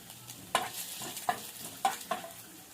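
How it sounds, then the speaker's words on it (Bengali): Chopped ginger fries in hot white oil in a wok for a cauliflower dish, a soft, low sizzle broken by four sharp scrapes and knocks of a spatula stirring at uneven intervals. "কড়াইতে সাদা তেল দিয়েছি, তেলটা গরম হয়ে গেছে। আদা কুচি দিয়ে দিলাম,"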